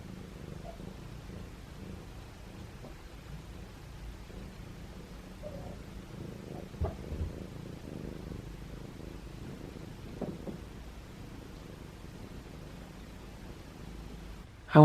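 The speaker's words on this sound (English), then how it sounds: "He's purring." Soft, steady cat purring runs low and close throughout, with faint rustling and a few small bumps, ending in a sudden louder knock.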